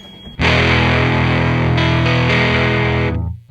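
A guitar chord is played through a cheap three-dollar distortion effect and rings out for about three seconds as a loud, buzzy, heavily clipped tone before it cuts off.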